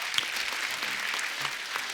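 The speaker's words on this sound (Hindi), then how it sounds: "इनके लिए जोरदार ताली हो जाए" Studio audience on a comedy talk show breaks into loud, sustained clapping, a dense even wash of applause with no talking over it.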